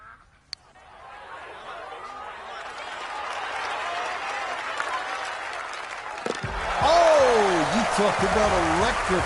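A golf tournament crowd breaks into sustained applause and cheering after a long birdie putt on the 17th green, with rising whoops and whistles near the end while a commentator talks over it.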